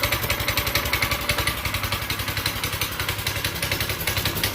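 A small offroad mini chopper engine runs at a steady idle after the carburetor has just been fuelled with the choke on, its rapid regular clattering firing pulses loud and close, with no talking.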